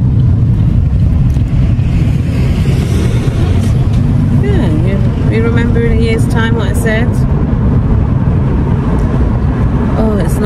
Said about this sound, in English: it's nice to have a bit of air coming through the car